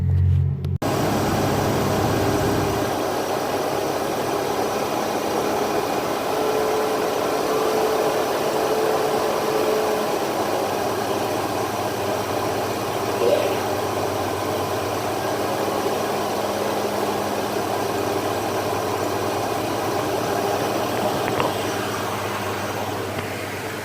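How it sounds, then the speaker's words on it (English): A Ford Ranger with a Pace Setter header feeding a Flowmaster exhaust on 2 1/4 inch pipe runs close by with a steady, loud engine drone, holding mostly even with only slight swells rather than sharp revs. "give it a couple revs so you guys could hear the exhaust system. It's the pace setter header going into a Flowmaster on 2 1/4 inch pipe"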